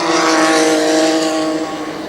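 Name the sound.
ARCA stock race cars racing around Kil Kare Speedway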